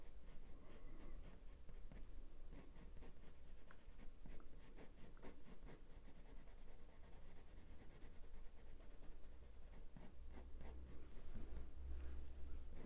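Coloured pencil strokes on paper while drawing a Border Collie puppy, white pencil blending over earlier colours; a steady, soft scratchy scribbling that continues without pause, close and quiet.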